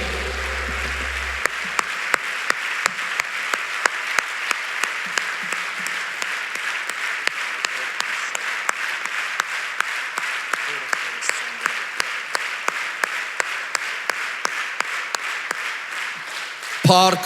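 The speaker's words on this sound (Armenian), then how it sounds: "Եկեք բարձր ծափ արենք նրան" Steady applause from a crowd, many hands clapping continuously and evenly for a long stretch, with a few sharper claps standing out near the end.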